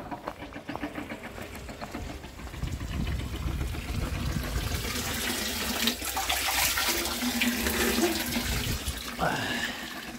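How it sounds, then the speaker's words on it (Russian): Spring water runs and splashes steadily and fairly close, a continuous broadband rush with a brief higher tone near the end. "Вот вам родниковая вода."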